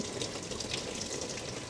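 Steady rushing flow of coolant water draining out of a 1986 Porsche 944 Turbo cooling system during restoration, a continuous close hiss and splash with no pauses.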